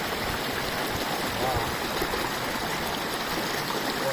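A flowing stream rushes steadily and close by, a continuous broadband wash of water that never lets up.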